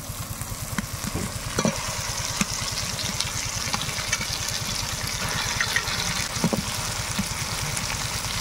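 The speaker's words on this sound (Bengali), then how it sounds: "এখন মাংসগুলো দিয়ে দেব।" Meat for a curry cooked with mankochu and choi jhal goes into spiced oil in a pan. It fries with a steady, close sizzle over a rapid low rumble, with scattered stirring clicks and scrapes throughout.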